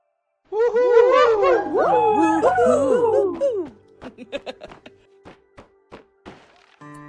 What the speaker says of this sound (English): Get out of there, dog.